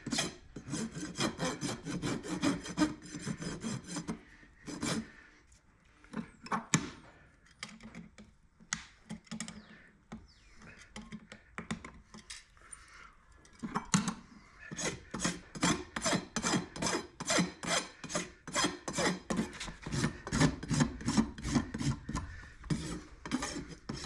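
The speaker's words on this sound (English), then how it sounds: "we're only rasping the pad back to the shoe" A farrier rasps a horse's hoof pad back flush with a full roller shoe, giving repeated close, loud scraping strokes in a steady rhythm, with a short pause midway before the strokes resume faster.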